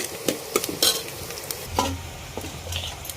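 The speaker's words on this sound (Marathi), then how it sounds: "आपण आता कांदा तळतोय" An onion frying golden in two ladles of oil on a wood-fired village stove, giving a short close sizzle with a few sharp stirring clatters and a low crackle underneath.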